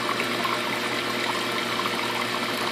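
Water pours steadily into a 230-gallon garage aquarium sump, making a constant, fairly loud rushing gush with a low hum underneath and no talking.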